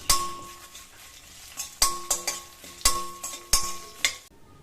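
Mustard seeds, urad dal, curry leaves and dried red chillies sautéing in a pan for vatha kuzhambu, with a spoon scraping and clinking against the metal in uneven strokes over a low sizzle, no voices.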